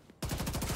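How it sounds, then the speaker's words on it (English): Gunfire in The Division 2: after a brief quiet moment, a loud, rapid burst of repeated shots rattles on without a break. "Taking a shot."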